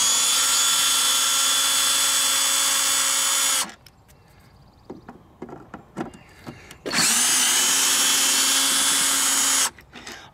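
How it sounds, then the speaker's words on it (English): A power screwdriver whirs loudly in two long bursts while backing screws out of a Jeep Wrangler tail light, separated by a quieter stretch of small clicks and handling noises. "I will be using a power screwdriver."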